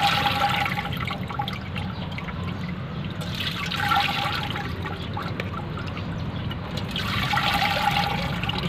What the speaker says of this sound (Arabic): ابتديت اخد الميه اللي هي في الطشت كده بالشكل ده كده عشان احط ميه غيرها